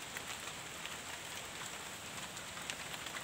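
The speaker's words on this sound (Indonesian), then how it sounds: "Hujan." Rain falling over a garden plot, a steady even hiss of drops with no voices, constant and moderately loud throughout.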